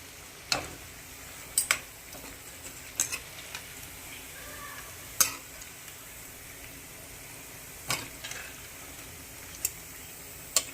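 Cabbage pakodi deep-fry in hot oil with a soft, even bubbling hiss, punctuated every second or two by crisp metallic taps of a slotted spoon against the pan.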